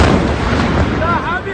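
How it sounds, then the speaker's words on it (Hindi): Blasts from an airstrike on Iran roll on as a continuous, loud rumbling barrage with dense low booms and crackling bursts, with a few faint tonal whistles near the end. "ये धमाके की तस्वीरें, वो उस एयर स्ट्राइक की तस्वीरें हम आपको दिखा रहे हैं"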